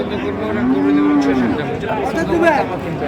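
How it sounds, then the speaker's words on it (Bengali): Sahiwal bull cattle low with a long, steady moo at a livestock market in Dinajpur, followed by a shorter second call, over continuous crowd chatter and background noise. "সুন্দর গরুগুলো"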